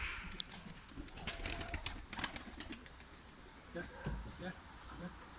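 Tumbler pigeons' wings flap and clatter in short bursts as they take off near a loft, with soft cooing and distant chirps, while people talk in Turkish in the background.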